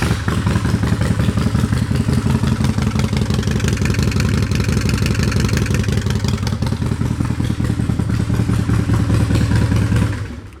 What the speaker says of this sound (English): Yep, Vance & Hines drag pipes, known for their obvious stealth and ability not to be heard anywhere